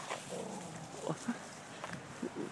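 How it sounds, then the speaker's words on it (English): Neighbors' dogs barking and whimpering in the distance, faint yips scattered through a steady background hiss, with no clear talk over them. "Neighbors' dogs, they're just..."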